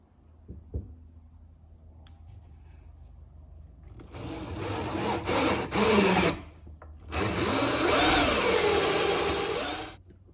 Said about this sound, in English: I'm going to start off with a little smaller hole saw